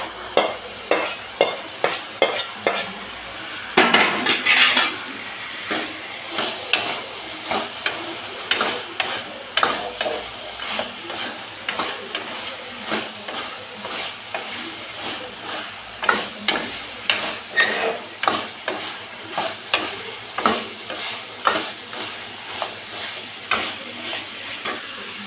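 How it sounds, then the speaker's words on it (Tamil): Chicken frying with coconut for balipalayam chicken, a steady close sizzle broken by repeated sharp scraping and tapping strokes of a spoon stirring the pan, coming in an irregular rhythm throughout. "பாருங்கள் சிக்கன் எந்தளவுக்கு வறுத்துருக்கேன்னு."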